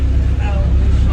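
A bus engine in Roatan, Honduras rumbles deep and close, a steady low drone that fills the short moment.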